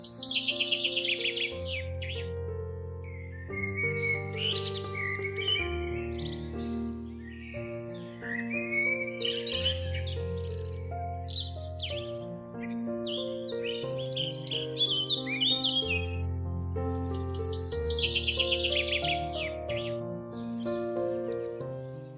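Birds sing in a calm outdoor meditation scene, with clear repeated chirps and whistled phrases over a soft, sustained musical drone, and no one speaks.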